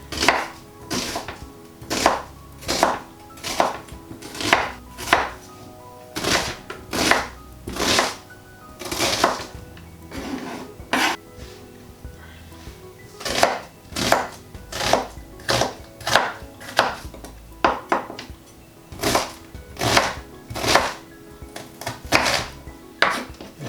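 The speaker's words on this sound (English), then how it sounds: "So let's get this onion chopped." Onion chopped with a knife on a cutting board for a vegan chilli, crisp rapid knocks in rhythmic bursts separated by short pauses, close and loud with no talking.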